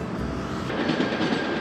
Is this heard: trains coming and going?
yes